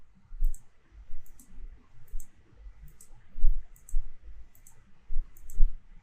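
Mouse clicks sound while working in a presentation program's presentation view, about a dozen short, crisp clicks spaced irregularly over a few seconds, close and fairly clear with no talking.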